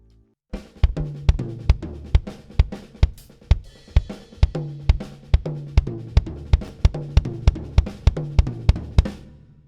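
A fast drum rudiment pattern played around a drum kit, with snare and bass drum hits: a steady, rapid stream of loud, close strokes running about nine seconds without pause.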